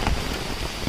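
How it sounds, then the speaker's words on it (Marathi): Heavy monsoon rain pours steadily around a rural hillside spot near Mahabaleshwar, a dense, even hiss of drops close by with a brief louder patter near the start, no voices. "आता पाऊस खूप पडतो"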